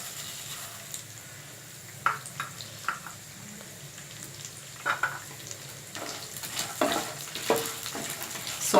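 Bengal gram, peanuts and black gram sautéing in a pan, a soft steady sizzle with scattered pops and crackles and occasional stirring scrapes, moderately close and with no talk.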